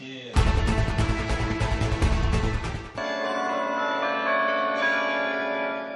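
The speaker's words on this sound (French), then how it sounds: "Un concert de carillon dans le beffroi de l'hôtel de ville de Lyon" Carillon bells played in the belfry of Lyon city hall: a dense, loud run of overlapping ringing bell tones that stops abruptly, followed by a steady ringing sustain of bell notes fading on.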